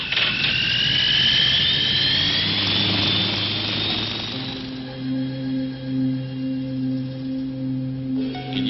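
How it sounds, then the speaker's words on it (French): Cartoon jetcopter engine in flight, a loud whining jet and rotor roar with a rising pitch sweep that fades after about four seconds, leaving a steady low engine hum and tonal drone. "J'espère que votre jetcopter pourra suivre mon appareil. C'est qu'il a 2 millions de libellules dans le moteur."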